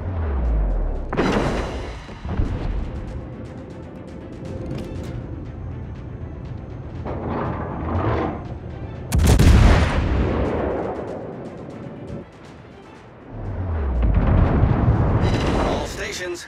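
Naval gunfire in the World of Warships video game, with heavy booming artillery salvos and explosions rolling out at intervals over a low rumble, loud and close.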